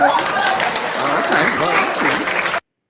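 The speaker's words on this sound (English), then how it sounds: "And people clap." A room of people clap together at a team meeting, fairly close and steady for about two and a half seconds before cutting off abruptly, with some voices mixed in.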